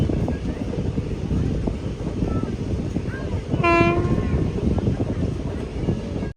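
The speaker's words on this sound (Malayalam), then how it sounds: "ട്രെയിൻ ഇപ്പോൾ റോഹ്തക് റെയിൽവേ സ്റ്റേഷനിലെത്തി." The Kisan Express running between Hisar and Delhi rumbles along with a constant roar of wheels and wind, and a tonal horn blast sounds partway through.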